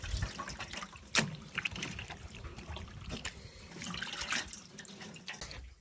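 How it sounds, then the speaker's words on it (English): Water from freshly washed meat draining away, a steady broadband trickle and splash with a sharper knock near the start, continuous and fairly close with no talking. "We're putting it to drain out all the water."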